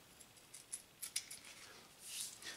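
Scissors snip a triangle of tape off the edge of a homemade model rocket parachute, giving a few faint, close, sharp clicks and a soft scraping cut in a quiet room.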